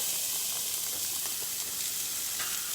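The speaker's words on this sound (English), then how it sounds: "I started that sausage with just a little bit of olive oil" Sausage frying in a little olive oil in a pan, giving a steady close sizzle and hiss that runs unbroken without any talking.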